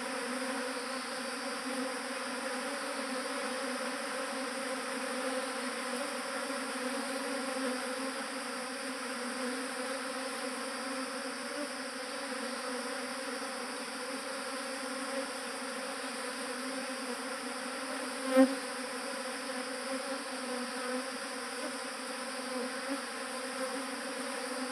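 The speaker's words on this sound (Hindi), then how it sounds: "पर ये इतनी मधुमक्खी है, इतनी मधुमक्खी कैसे इसमें रह जाएगी।" A swarm of honeybees being gathered by hand drones in a steady, even buzz throughout, with a faint tick partway through and no voices.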